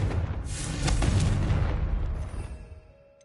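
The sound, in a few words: Confringo explosive spell in the Hogwarts Legacy video game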